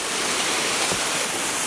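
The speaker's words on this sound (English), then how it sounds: "Oh, it's just a little waterfall." Small waterfall inside a cave at the Enchanted Forest, a steady broadband rush of falling water filling the whole clip, close and continuous with no voices.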